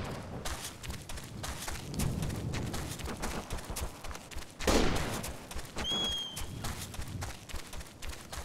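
Gunfire in the video game Operation Flashpoint: Dragon Rising: scattered distant shots over rumbling battlefield ambience, with one louder, sharper crack midway and a brief high electronic tone afterward.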